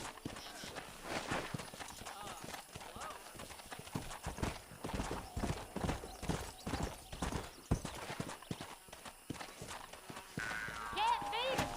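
Horses galloping in a race in the video game Red Dead Redemption: dense, rapid hoofbeats pounding throughout, a whinny near the end, with speech over the action.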